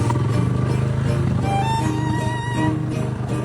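A Bajaj CT150 motorcycle engine running steadily after being started, a close, continuous low putter with a rhythmic idle that stays loud for several seconds.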